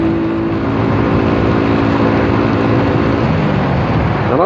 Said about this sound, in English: Did you hear that bike come past it? You hear the engine roar on that.